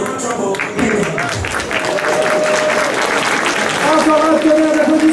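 Loud applause and cheering from the crowd at a cosplay parade during a gaming convention in Brest, continuous clapping with an announcer's voice and music over it.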